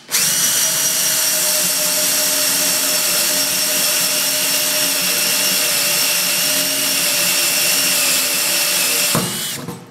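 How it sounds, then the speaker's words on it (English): A loud power drill whines steadily for several seconds as it bores a hole into sheet metal, then cuts off abruptly at the end. "drilling sheet metal can be kind of exciting"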